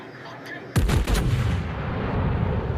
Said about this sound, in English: Epic long-range shot on the Flandre.